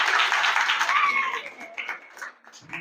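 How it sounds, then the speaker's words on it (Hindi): Applause from a class clapping for the girls who won a classroom quiz, a broad crowd of hands filling the clip loudly and then tapering off, with voices mixed in. "तो इस तरह से लड़कियों के लिए ताली बजाओ"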